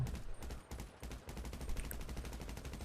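Rapid automatic gunfire in the GTA 5 video game, a dense rattling stream of repeated shots continuing throughout at fairly low volume, with no talk.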